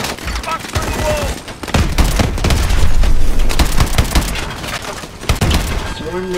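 Dense, loud gunfire from Call of Duty Advanced Warfare, with rapid automatic bursts and heavy booms filling the clip nearly without pause alongside game effects.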